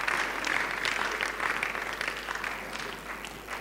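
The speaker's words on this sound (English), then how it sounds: "Let's clap for ourselves again, everybody." A church live-stream audience claps for itself, a dense, steady round of applause from many hands that slowly fades toward the end.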